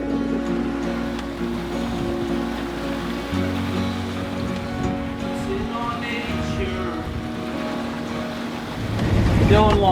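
A sailboat runs at nearly 10 knots at sea. A steady, loud rush of wind and water goes on throughout, with a low hull drone and a surge near the end.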